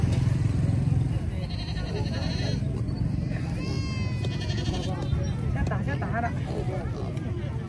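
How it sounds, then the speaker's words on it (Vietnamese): Pigs, both wild and local breeds, squeal in sharp bursts at a busy rural market in Vietnam's northwest highlands, with bleating-like cries over crowd noise and a passing motorbike. "Ở dưới này là những cái chú lợn cuối cùng."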